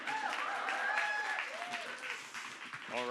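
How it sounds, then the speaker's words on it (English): Audience applause at a producers' panel discussion, a steady wash of clapping throughout, fairly loud and even, with a voice briefly heard over it. "You can clap if you want."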